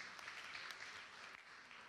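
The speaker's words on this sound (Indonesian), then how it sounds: "Tepuk tangan buat Tuhan Yesus dong" A church congregation claps together during a sermon, a dense steady patter of many hands that carries on without a break for about two seconds.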